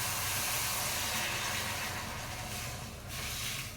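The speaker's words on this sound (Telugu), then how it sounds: "ఇప్పుడు ఈ పోపులను మనము ఇక్కడ యాడ్ చేస్తాం" Hot tempering of green chilli, ginger paste and curry leaves is poured into yogurt brinjal chutney and sizzles, giving a steady, loud hiss that holds throughout with no talking.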